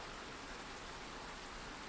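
Rain falls as a steady, even hiss of dense drops, soft and unbroken, with no voices.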